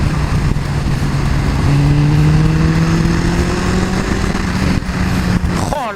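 A motorcycle engine just back from a clutch repair revs up hard and holds a loud, rising drone close by, then drops off near the end, with no talk over it.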